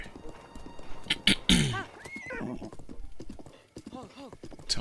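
Horse hooves clip-clop steadily in Zelda: Breath of the Wild, with a neigh mid-way, close and fairly loud under occasional talk.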